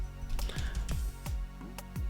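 Keys tapped on a Portuguese-layout computer keyboard in a few uneven bursts of close, sharp clicks with brief pauses between them and no talking.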